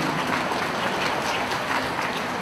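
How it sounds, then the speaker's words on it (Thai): Audience clapping at a vocational college open house in Suphanburi, Thailand, a dense, steady wash of applause filling the whole stretch with no pauses. "ปรบมือทั้งหมด"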